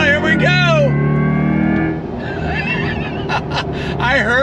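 A 2024 Corvette C8 E-Ray goes on throttle, its engine note rising and falling loudly and close by as a voice talks excitedly over it.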